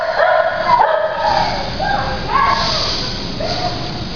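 Dogs barking and yipping inside an animal shelter, several overlapping barks and whimpering cries in an uneven, echoing chorus, fairly close and loud, with no other sound above them.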